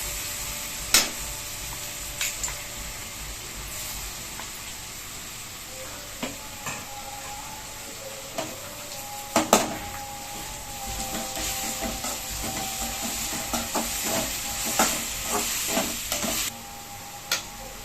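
Onions fry in a pan with coriander, ginger and garlic for a chicken curry, sizzling steadily while a spoon stirs and scrapes, with repeated clinks and taps against the pan throughout.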